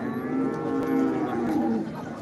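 A cow at a cattle market in Modnimb gives one long, close moo lasting about two seconds, with no talk over it.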